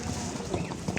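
Horse hooves clip-clop on the ground at a busy livestock horse market in Sokuluk, Kyrgyzstan. Steps are quick and muffled, set against a dense crowd murmur over one short second.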